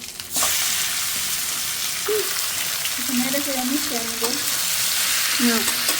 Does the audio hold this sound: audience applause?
no